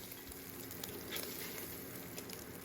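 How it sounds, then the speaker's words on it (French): Bacon lardons frying in olive oil in a cast-iron pot, a faint, even crackling sizzle with a few brief pops. "mettre l'huile d'olive à chauffer, les lardons, les faire revenir pour qu'ils colorent"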